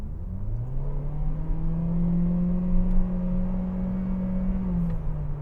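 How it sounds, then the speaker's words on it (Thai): An MG5 sedan, 10th Anniversary edition, revs hard under full acceleration, its engine note rising and holding in a steady droning tone before easing slightly near the end, heard from inside the car with no talking. "เนี่ยเห็นไหมเสียงของเครื่องยนต์เขาจะนำมาก่อนเลย"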